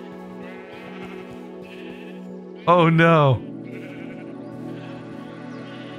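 A single loud sheep bleat in the Minecraft Eternal modpack, a short wavering cry over a steady game background, with a voice speaking briefly nearby.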